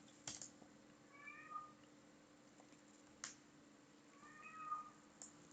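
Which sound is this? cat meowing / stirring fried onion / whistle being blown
cat meowing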